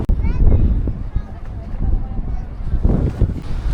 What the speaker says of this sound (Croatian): Slušaj, vjetrovito je, Vojče uživa.